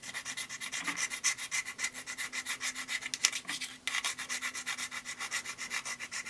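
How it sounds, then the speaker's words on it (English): A metal key rubs and scrapes repeatedly across the aluminum back of an iPhone 5, a close, rhythmic gritty scratching of quick back-and-forth strokes at an even pace with no talking. "So we're going to be really trying to scratch it with this key and just see what kind of damage we can do."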